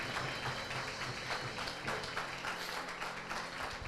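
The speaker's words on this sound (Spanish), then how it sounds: "Ese aplauso sí es para el Rey." Congregation applause in a church service, a dense, continuous patter of many hands clapping together, close and steady throughout with no voices over it.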